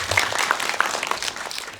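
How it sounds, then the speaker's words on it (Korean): An audience at a Korean film screening Q&A gives brief, moderate applause, a dense patter of many hands clapping at once, steady for under two seconds. "박수 부탁드립니다"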